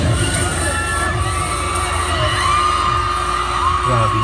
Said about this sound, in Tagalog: Grabe hiyawan.